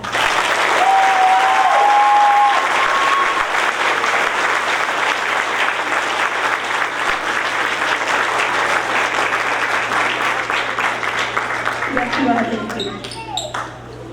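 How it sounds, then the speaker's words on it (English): Sustained audience applause fills a large hall at a high school JROTC change of command ceremony, steady clapping from many hands lasting most of the time before fading out near the end. "Let's give them a round of applause."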